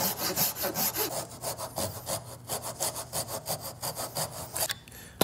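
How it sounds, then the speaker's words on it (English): A hand saw cuts into wood for a prop build, a close, rhythmic series of rasping back-and-forth strokes, about three per second, ending with a sharp knock. "I'm gonna try and use this saw to remove the bulk of the material"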